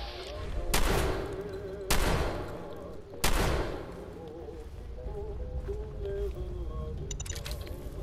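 Gunfire in Fallout 4: three sharp, loud shots spaced about a second apart, with lingering game sounds and faint tonal background music continuing afterward.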